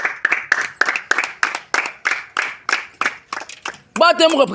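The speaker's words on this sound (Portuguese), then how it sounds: "Palma, vamos aqui bater palma." A class of children in a Kikongo lesson in Luanda, Angola claps in a loose, regular rhythm of about a dozen separate claps, close and fairly loud, with children's voices breaking in near the end.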